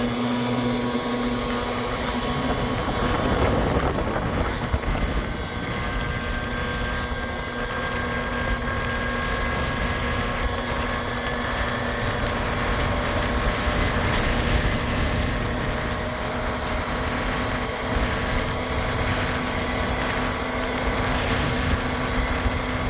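A motorbike fitted with a bolt-on exhaust accelerates hard on a test ride, giving a steady loud engine drone with rising tones. Heavy wind noise runs under it, and no one speaks.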